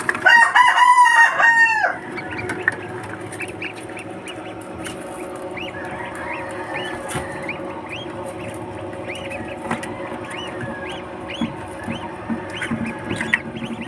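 Newly hatched ducklings and chicks in a brooder peep with short, high chirps scattered through the scene, loudest early on, then softer and intermittent over a steady low background hum.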